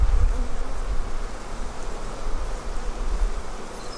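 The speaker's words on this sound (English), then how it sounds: "these bees are not very happy with me" A thick, continuous buzz of many honeybees around an opened hive swarms close by, droning steadily without any talking.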